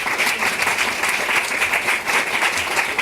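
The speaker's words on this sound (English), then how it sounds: "give Lewis and Wayne a round of applause" A round of applause from an audience, dense, continuous clapping of many hands at a steady level across about three seconds, with no speech over it.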